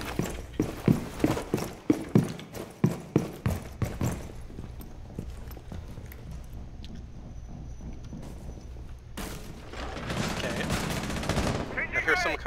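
Footsteps in Rainbow Six Siege: a rapid run of sharp, hard thuds up front, then quieter shuffling and movement inside a game scene, fairly distinct and close.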